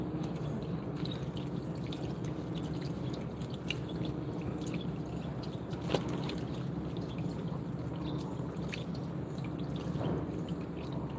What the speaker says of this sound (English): Wash my sandals real quick.